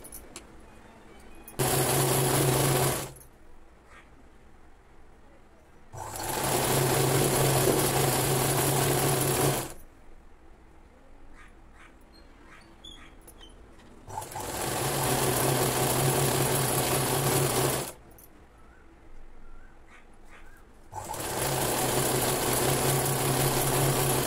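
Sewing machine stitching the folded-over bottom hem of a Punjabi dress, running in four loud, steady bursts of a few seconds each with short quiet gaps between them as the fabric is repositioned.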